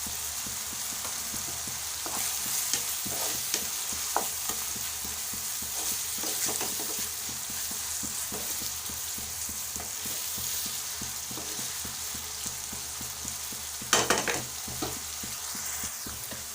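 Egg curry ingredients sprinkled with salt fry in a pan, a soft continuous sizzle broken by frequent light scraping stirs, with a brief louder clatter of the spoon near the end, close and without any talking.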